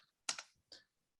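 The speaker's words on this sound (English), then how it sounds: "So I will start by typing in ping" A computer keyboard types a ping command at a network terminal during a hands-on networking workshop: a few quick, crisp key clicks in two short bursts, close and fairly quiet, with no voices.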